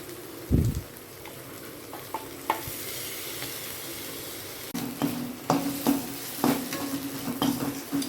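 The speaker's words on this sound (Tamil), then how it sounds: "இப்போது இதில் கொஞ்சம் அந்த பச்சை மிளகாய் அரைச்சி வச்சதை இதில் போட்டு கலந்துக்கலாம்" Ground green chili stirred into small onions and chana dal frying in a pan, giving a steady close sizzle with intermittent spoon scrapes and clinks against the metal that grow livelier midway.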